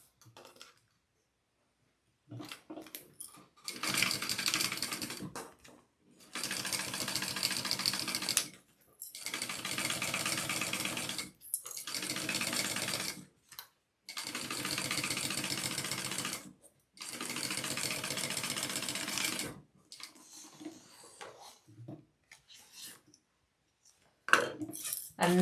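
A sewing machine runs a seam across quilt pieces in several loud, close bursts of rapid stitching separated by short pauses, with softer handling noises at the start and end.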